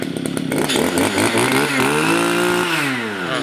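A used Japanese Kyoritsu 2610 brush cutter's small two-stroke engine, running just after a pull start, buzzes loudly up close, its pitch rising and falling as it revs and settles.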